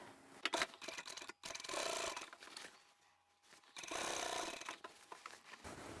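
A sewing machine top-stitching close to the outer edge of folded fabric for a market bag, running in two sustained bursts separated by a quieter pause, close and moderately loud with a whirring, buzzing motor tone.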